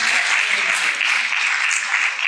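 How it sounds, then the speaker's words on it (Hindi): An audience at a Hindi-Urdu mushaira poetry recital breaks into dense, loud applause, a continuous wash of many hands clapping at once with no pauses. "आपकी जोरदार ताली"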